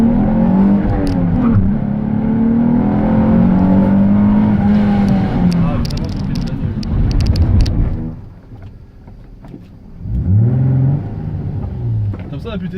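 Nissan 350Z held at 3000 rpm then launched from a standstill, engine note climbing loudly through the gears before a shift and lift near the end, then revving again, close and dominant.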